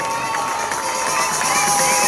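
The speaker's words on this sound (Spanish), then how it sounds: "Vamos aplaudiendo a ver qué dice el público." A festival crowd at a grape harvest celebration applauds and cheers continuously, a dense, loud wash of clapping and shouting voices throughout.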